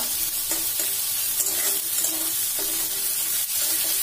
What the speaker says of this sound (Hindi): अभी ये प्याज को अच्छे से ब्राउन करके फ्राई करना होगा